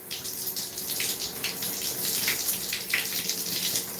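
Steady running water splashes while type 4 hair is rinsed on wash day, a continuous close hiss of tap flow with shifting spatter and no talking.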